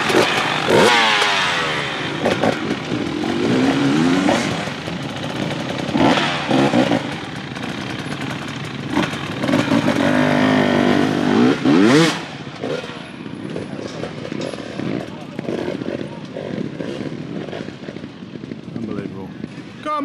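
GasGas off-road trials motorcycle engine revving in bursts on rocky terrain, close and loud, with a mechanical clatter, under someone talking for much of the time.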